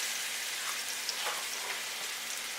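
Pork steaks sizzle in a hot, floured pan, making a steady, soft hiss with light crackles that holds evenly from start to finish, close by and with no talk.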